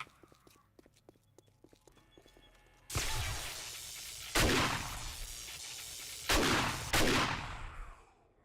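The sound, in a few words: automatic turrets firing in video game 7 Days to Die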